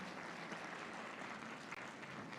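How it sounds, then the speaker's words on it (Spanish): An audience at an evangelistic campaign gathering claps for the choir group Canto de Esperanza, a steady, even wash of applause heard from a distance and fairly faint. "Brindemos otro fuerte aplauso para el grupo Canto de Esperanza"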